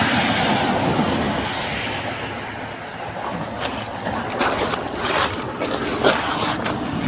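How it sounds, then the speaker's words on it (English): Jacket zipper pulled with repeated scraping rasps during a police DUI arrest, close and continuous against rough background noise. "I don't want to get your hair caught in a zipper."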